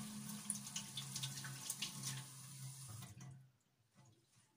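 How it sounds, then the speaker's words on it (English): Hands are washed under a running kitchen-style tap, a close, steady splash of flowing water with small splatters that cuts off abruptly after about three seconds, leaving near-silence. "Let me wash my hands."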